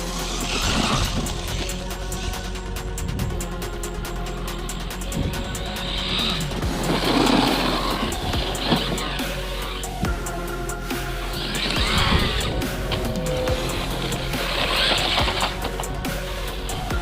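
An MJX Hyper Go 14210 RC car runs on a 3S battery, its electric motor whining continuously with repeated surges, tire scrubs and rough skids over about seventeen seconds, moderately loud and fairly close with no talking.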